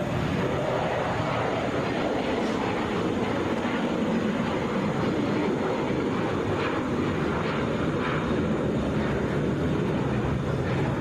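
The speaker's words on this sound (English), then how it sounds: "This is still our flight taking off." An airliner's engines rumble continuously on takeoff at Atlanta, a dense, even roar heard from a distance with no voices over it.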